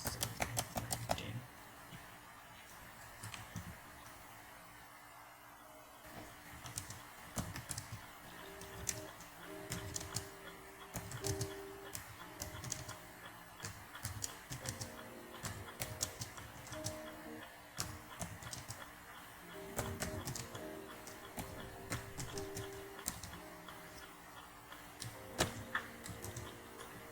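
Fingers typing data on a computer keyboard, a long run of quick, uneven key clicks in bursts with short pauses, close and clear.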